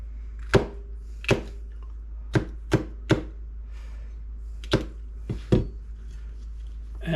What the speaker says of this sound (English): And then we're going to cut them into maybe 1/2 to 3/4 inch sections.